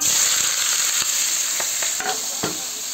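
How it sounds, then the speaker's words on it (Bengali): Papaya, potato and chopped green chilli frying in hot oil in a kadai, a loud continuous sizzle broken by several soft stirring knocks. "কড়াইতে এবার ঢেলে দেবো পেঁপে আলুগুলো আর কাঁচা লঙ্কা কুচি।"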